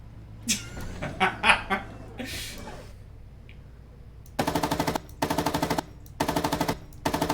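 Gunfire in the tank combat game GHPC: after a few scattered impacts, four rapid machine-gun bursts rattle out loud and close, each lasting about half a second, evenly spaced with short pauses between.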